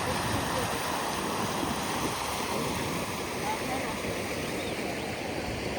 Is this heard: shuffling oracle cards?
no